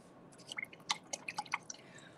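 Water is added with a brush to an oil pastel resist painting, giving a quick cluster of faint, close, wet drips and small splashes over a quiet background.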